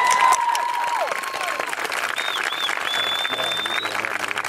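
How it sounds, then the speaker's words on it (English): Graduation ceremony audience applauding for supporters of the graduates, a broad steady wash of clapping from a large crowd with a few whistles and cheers rising above it. "applause"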